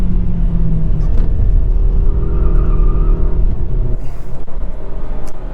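A 2022 Volvo XC40 T5 AWD Inscription accelerates hard with stability control in sport mode, its engine note rising loud and steady from inside the cabin, with a brief shift-like dip near the end.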